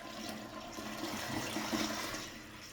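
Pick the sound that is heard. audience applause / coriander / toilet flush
toilet flush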